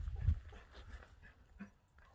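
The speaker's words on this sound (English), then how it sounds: "here comes that creepy ass dog" A dog approaches near a parked truck, giving a short low bark or huff early on, then soft whimpers and snuffles at moderate distance over faint background noise.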